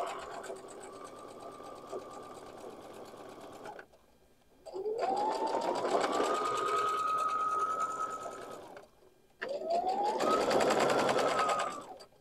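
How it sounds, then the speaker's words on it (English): A sewing machine runs in three steady bursts while stitching along a quilt border, each run a loud continuous whir that rises in pitch as it speeds up, separated by short pauses. "I'm going to do a little back stitch here, just being careful not to sew on the quilt itself, just on the border."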